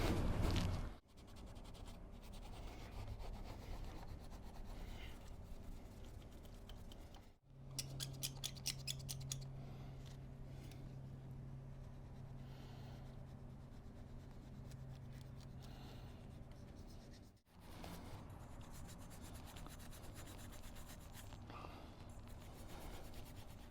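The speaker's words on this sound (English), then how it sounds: "Scotch pad and we can go across here and just clean all this up." A Scotch-Brite pad scrubs the mating surface of a Yamaha motorbike engine in long, steady rasping strokes, close and fairly quiet, broken by two short pauses.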